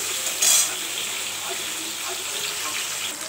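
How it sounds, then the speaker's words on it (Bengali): Cauliflower pieces and egg frying together in a pan give a steady, close sizzle with a short brighter crackle near the start and no talking. "ফুলকপিগুলো দিয়ে দিচ্ছি, ভেজে নিচ্ছি"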